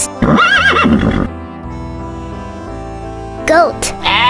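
A horse neighs in a loud, wavering whinny at the start, then music carries on quietly before a shorter second whinny and a snort near the end.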